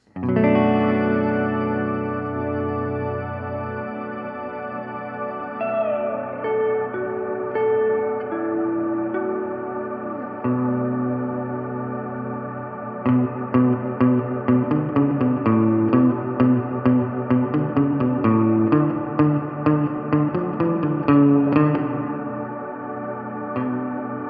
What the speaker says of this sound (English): I've got a shimmer reverb in the reverb A slot, and I'll put a hall sound in reverb B.